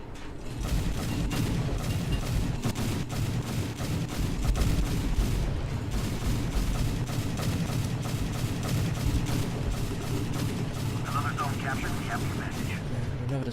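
Naval gunfire from a British cruiser, HMS Enterprise, in War Thunder, a continuous barrage of heavy booms and rapid reports over a rumbling engine bed, with someone talking throughout.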